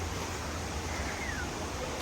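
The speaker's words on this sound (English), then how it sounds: "And we are at the first waterfall." A waterfall along a rainforest hiking trail in Puerto Rico, a steady broadband rush of falling water that stays constant and fairly close, with no voices over it.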